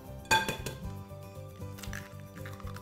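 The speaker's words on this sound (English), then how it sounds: "I've got two eggs here. We're gonna just give those a crack." Two eggs cracked against a bowl: a sharp knock, then a few lighter taps and clinks. The sounds are close and quiet over a soft, tonal background hum.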